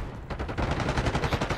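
Rapid automatic gunfire in Call of Duty, a burst of loud, close shots in quick steady rhythm lasting over a second.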